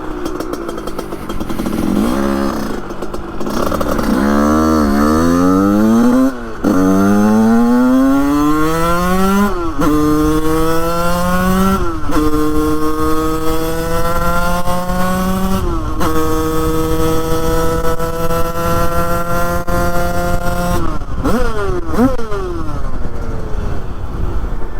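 A 100cc two-stroke moped engine with a 2Fast carburettor revs hard on a straight-line run, its pitch climbing again and again in loud, continuous sweeps, running close and alone.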